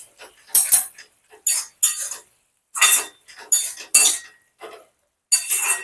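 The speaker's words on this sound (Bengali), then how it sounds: "আবার ওইগুলোকে একটু নাড়িয়ে নেব।" A spoon scrapes and clinks against a pan while chopped sponge gourd, salted and spiced with garam masala, is stirred, giving a series of short irregular metallic bursts with quiet gaps between them and no voices.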